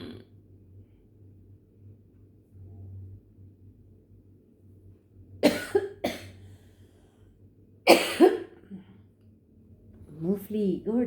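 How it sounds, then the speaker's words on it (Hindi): Several sharp coughs in two bursts, close by, with quiet breathing between and a low steady hum underneath; a brief voice near the end. "मूंगफली गुड़ सब खा खा के खांसी का बुरा हाल कर रखा"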